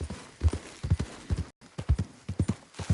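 Horse galloping in the video game Red Dead Redemption 2, with a loud, close, rhythmic clip-clop of hooves in quick pairs that keeps up throughout apart from a brief gap near the middle.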